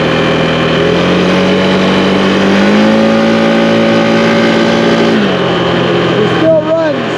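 A Can-Am Outlander 700 XMR ATV engine runs steadily after the quad was sunk, holding a loud, even idle with a brief rise in revs midway. A voice is faintly heard beneath the engine.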